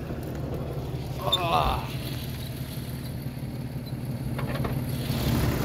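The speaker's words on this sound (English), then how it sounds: "you can kind of hear a misfire going on" A 1992 Jeep Cherokee engine with a misfire idling close by, a low uneven chugging that runs steadily throughout, with a short whine-like sound near the start.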